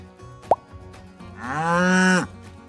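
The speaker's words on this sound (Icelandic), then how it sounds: "Kýr." A farm cow gives one long, loud, steady moo of nearly a second, heard close and alone after a brief pop, with no talking.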